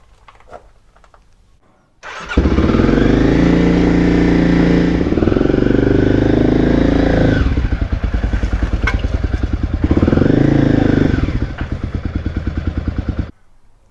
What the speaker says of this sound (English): engine check.